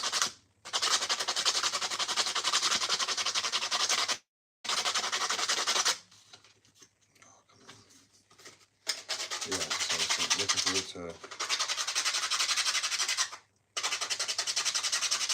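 Skateboard decks being hand sanded in a workshop, long loud rasping strokes in bursts separated by short pauses, with a quieter stretch in the middle where someone speaks briefly.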